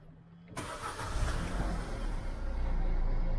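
A car engine starts abruptly after a brief quiet moment, then settles into a steady running rumble that grows slightly louder and fuller.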